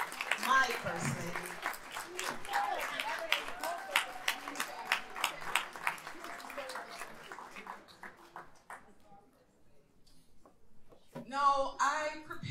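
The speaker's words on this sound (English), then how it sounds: "May I have a round of applause for Zola" An audience at a university International Women's Day event applauds the first lady, steady dense clapping for several seconds that fades out, then a voice speaks briefly at the end.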